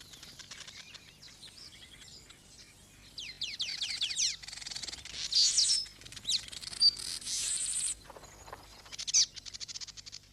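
Weaver bird calling while building its nest: a run of bright chirps, trills and buzzy notes, close and fairly loud, with rustling and some insect-like buzzing around them and no voices.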